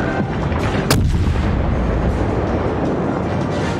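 Warship guns boom in a naval battle in World of Warships. A sharp, loud report cuts through a dense, continuous rumble of distant cannon fire and explosions.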